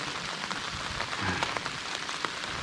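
Steady rain patters on a campsite shelter, dense and close with scattered louder drops, alone without talk.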